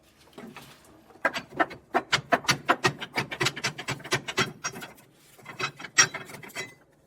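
An impact wrench working on suspension U-bolts of a 2022 Ford F-53 chassis during a rear anti-sway bar install, a fast run of sharp rattling hammer blows lasting a few seconds, then a short second burst, close and fairly quiet.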